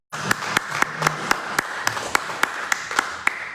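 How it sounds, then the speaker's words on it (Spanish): Applause from an audience in the multipurpose room of the Museo Regional de Chiapas welcoming archaeologist Víctor Ortiz Villarreal: a fairly sparse, steady patter of claps with regular sharp individual hand strikes standing out, close and moderately loud, no talking. "para que pida un aplauso, por favor."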